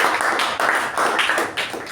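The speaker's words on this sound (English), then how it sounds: "Let's give a thunderous round of applause to both speakers" An audience at a club meeting gives a round of applause for two speakers. The close, brisk hand-clapping pulses and swells in quick surges throughout the short moment.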